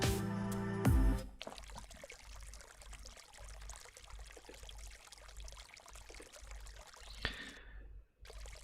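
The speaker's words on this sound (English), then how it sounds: "Water flowed across May's fingertips and disappeared into the drain with a soft, weeping sound." Water running from a tap over dishes at a kitchen sink in the Honkai Impact 3rd video game, a steady soft trickle and pour that carries on for several seconds before cutting off.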